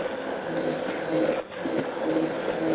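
A hand blender grinds ingredients for gluten-free mazamorra, a steady motorized whine that holds for nearly three seconds, with a brief dip in the middle before it resumes.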